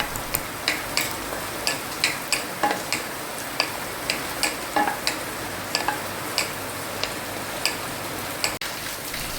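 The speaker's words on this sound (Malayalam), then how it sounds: "കുറച്ച് തേങ്ങാക്കത്തോടി ഞാൻ എടുത്ത് വെച്ചിട്ടുണ്ട് അതും കൂടി നമുക്ക് ഇതിലേക്ക് ഇട്ട് കൊടുത്ത് നന്നായിട്ടൊന്ന് വഴറ്റിയെടുക്കാം" Coconut pieces sautéing in a pan for a coconut sweet, with a soft steady sizzle under a run of regular scraping ticks from a stirring spoon, close and moderately quiet, with no talk.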